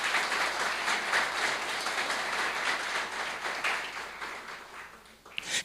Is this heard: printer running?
no